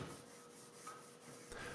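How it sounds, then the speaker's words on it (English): A Scotch-Brite pad rubs back and forth across a table saw's metal surface, a faint, steady scratchy scrubbing with no talk. "Clean off any deposits or rusty spots with a Scotch-Brite pad and a razor."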